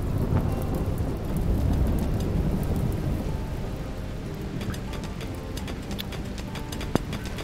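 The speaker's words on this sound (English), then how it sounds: "Oh, rain? Oh, it's raining." Thunderstorm with rain in the RimWorld video game, loud continuous rumbling thunder over steady heavy rainfall, filling the whole stretch with no voices.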